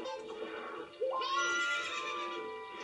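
A horse neighs in Zelda: Ocarina of Time on the N64, a single loud whinny with a rising then wavering pitch, heard alone.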